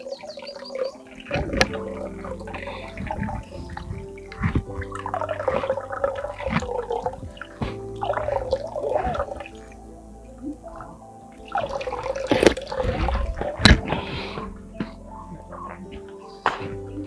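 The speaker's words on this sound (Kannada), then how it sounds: "ರಾಮ ತನ್ನ ಬಾಣದಲ್ಲಿ ನಾಮ ಇಟ್ಕೊಳ್ಳೋಕ್ಕೋಸ್ಕರ ಬಾಣ ಬಿಟ್ಟು ಬಂಡೆಯಿಂದ ನೀರು ತೆಗೆದಿದ್ದ ಜಾಗ" Spring water flows from rock at Namada Chilume, splashing and gurgling in uneven surges with drips and trickles, fairly close, with a louder burst of splashing near the end.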